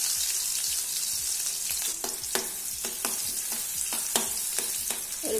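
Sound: small onions frying in hot coconut oil in a pan

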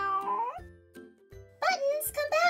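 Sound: cat meowing

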